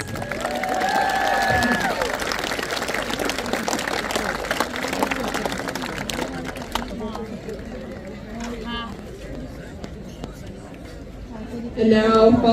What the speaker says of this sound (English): Let's give another final round of applause for our awardees